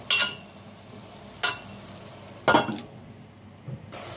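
Kapuska, a Turkish cabbage stew, being stirred slowly in a cooking pot, with a few separate scraping clinks of the spoon against the pot spaced a second or so apart over a quiet simmer.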